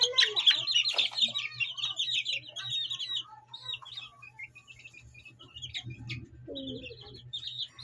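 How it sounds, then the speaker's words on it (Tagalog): Month-old chicks peep shrilly and repeatedly during fowl pox vaccination, their rapid high calls clustering in bursts nearby, with a low hum and faint handling noises underneath. "Kasi nagkukulit ng mga sisiw eh."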